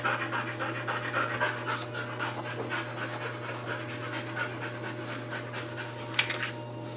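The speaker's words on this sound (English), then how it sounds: "I've got some tired dogs that are huffing and puffing." Tired dogs pant steadily and rhythmically throughout, quick breathy huffs close by over a constant low electrical hum, with a brief louder knock near the end.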